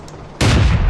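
A single heavy cannon shot from a tank in a tank battle game booms abruptly out of quiet, close and loud, then rumbles and rolls away over the following moment.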